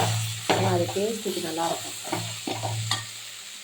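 Carrots, potatoes and other vegetables sauté in hot oil for a green pea gravy, giving a steady close sizzle with occasional stirring scrapes. Someone talks over the sizzle.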